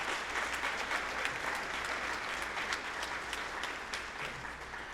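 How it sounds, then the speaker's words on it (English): A school audience at a spring band concert claps steadily for the graduating seniors, dense and sustained applause that fills the room before slowly tapering off. "Give the seniors another round of applause just because."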